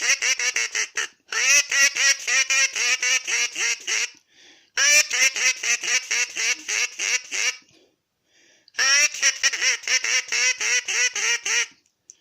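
An Acme crow call blown to imitate ducks gives three bursts of rapid, chattering quacks, loud and close, separated by short silences.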